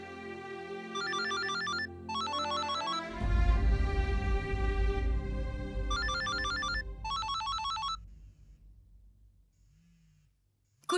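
A telephone ringtone trills in repeated electronic bursts, later overlaid by a loud swelling dramatic music sting that fades out, leaving near silence.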